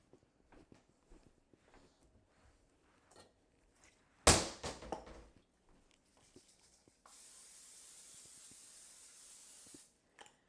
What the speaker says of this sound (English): I want to spray this with some nonstick spray